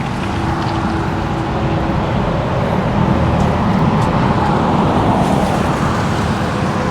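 Cars and other vehicles stream by on a busy road while an e-bike rider waits at the edge, a dense, continuous roar of nearby traffic with no lulls.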